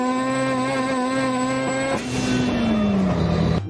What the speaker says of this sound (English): the rotaries just love going to redline